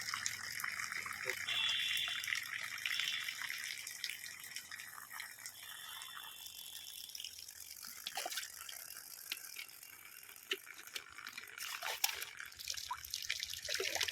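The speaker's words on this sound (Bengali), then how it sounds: "এবং হাত দিয়ে মিশিয়ে নেব হলুদটা হাত দিয়ে মিশিয়ে নাও" A hand stirs yellow fish medicine into about fifteen litres of water for a fish pond, making faint close sloshing, swishing and dripping sounds with small irregular splashes throughout.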